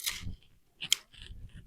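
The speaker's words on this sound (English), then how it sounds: "We're just using a pair of scissors today for all of this" A pair of scissors snipping runners off strawberry plants in a garden bed: a couple of close, crisp metallic cuts with short rustles between them, no voices.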